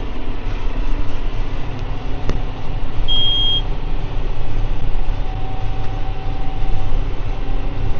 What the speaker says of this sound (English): Something's just beeped at me